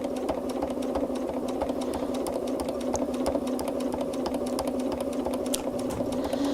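A sewing machine quilts through fabric, running in one continuous, steady mechanical hum with rapid needle ticking for the whole stretch, close up and with no voice.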